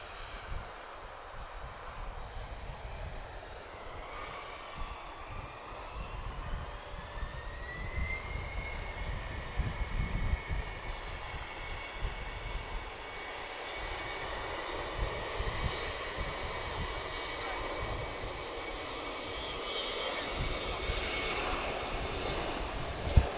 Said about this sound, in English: great sound from those two CF34 engines